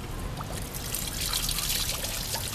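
Coolant bubbles and gurgles steadily inside a 1997 VW Jetta engine, a continuous close trickling, sputtering wash without any voices.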